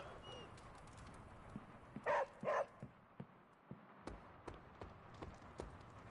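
Charlie the dog in Marvel Midnight Suns gives two short, quiet barks early on, set against faint ambient game sound with light ticks and taps.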